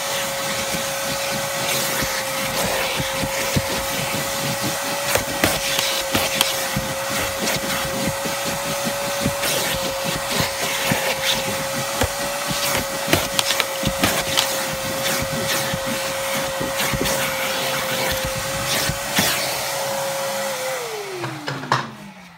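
A vacuum cleaner runs with a loud, steady whine while cleaning gum-stained automobile carpet, with rattling bursts as debris is sucked up, then the motor winds down at the end.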